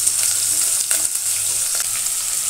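Pumpkin, potato and onion frying in hot oil, with a loud continuous close-up sizzle and occasional crackles and stirring touches throughout.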